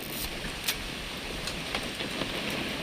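Rain falls in the video game What Remains of Edith Finch, a steady soft hiss with a few louder drop or gust accents, moderate in level and heard alone without talk.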